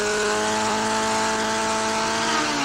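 Engine of a 1980s AMA superbike at racing speed, caught by a bike-mounted onboard camera: a loud, steady high-revving roar with sustained tonal whine and wind rush, continuous throughout with no voices.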